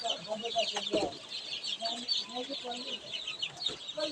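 Farm chicks and chickens cluck and peep continuously close by, with overlapping chirps and a few louder bursts throughout.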